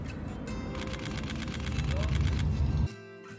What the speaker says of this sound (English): So now I have selected this burst mode and will keep pressing this shutter release button.